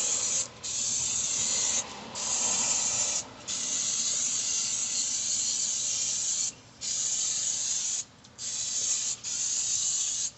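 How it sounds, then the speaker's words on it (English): Aerosol brake cleaner hisses loudly onto a brake rotor in long continuous bursts, broken by several brief pauses, close up with no talking. "I highly suggest you take some brake clean and clean off the rotor"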